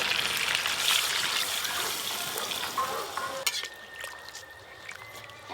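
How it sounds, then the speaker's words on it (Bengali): Water pours into a hot pan of chicken and potato curry, a loud hissing sizzle and rush that settles into a quieter bubbling simmer. "এবার জল দেব।"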